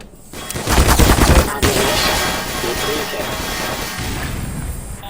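Grenade explosions in the video game Black Mesa: a loud burst of crackling blasts and rumble up front, then a sustained noisy roar that slowly fades, with a player talking over it.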